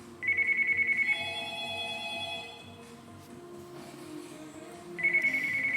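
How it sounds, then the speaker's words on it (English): A phone ringtone sounds for an incoming call, a bright repeating electronic melody that plays in two bursts with a quieter gap between them, with no talk over it. "Oh, for fuck's sake, another phone call?"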